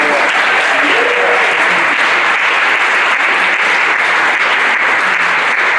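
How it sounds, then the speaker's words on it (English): Audience applause for a teacher at a high school spring concert, a loud, sustained roar of clapping from a crowd, with faint voices mixed in. "So one more round of applause for Mr. Weldon."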